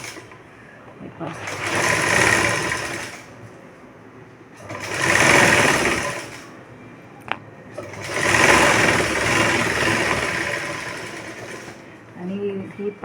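A sewing machine stitches a half-inch folded hem on a plain katori-style blouse, running in three loud, sustained bursts of whirring stitches separated by short pauses, with a faint tap and light handling noise near the end.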